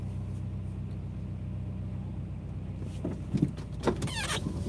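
Car power window motor: a whirring electric window running under a steady idling engine hum, followed by a few short clunks and squeaks near the end.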